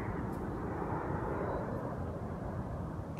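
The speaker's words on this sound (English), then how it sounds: "Look above. Here comes an airplane." A fixed-wing airplane passes overhead on its landing approach, a steady broadband engine roar heard from a distance with no other sounds.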